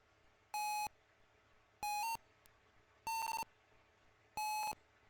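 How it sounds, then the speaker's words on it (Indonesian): An Arduino river water level monitor with an ultrasonic sensor sounds four evenly spaced electronic beeps, each about a third of a second long and clear against a quiet background. "bakal bunyi bip gitu ya."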